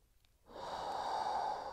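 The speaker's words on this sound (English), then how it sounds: "Big deep breath in." A single deep inhalation during a guided meditation session, a soft, airy breath in that begins after a brief silence and swells steadily, close and alone with no talking.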